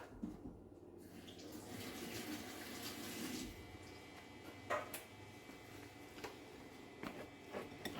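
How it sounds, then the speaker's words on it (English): Cold tap water running over hands in a kitchen while working sticky seeded sourdough dough, a steady close rush with a few soft knocks and splashes near the end, no talk. "I put my hands under cold water"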